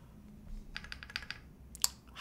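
Quick keystrokes clatter on a Trio-65 mechanical keyboard with a PBT space bar, a short irregular burst of crisp clicks and taps ending in one sharper, louder press.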